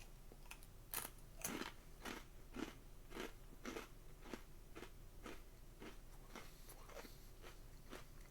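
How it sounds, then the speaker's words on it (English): Sea salt pita chips crunch sharply with each bite, a steady run of about a dozen crisp, brittle snaps spaced roughly every half second, close to the microphone and with no talking. "The crunch factor is high."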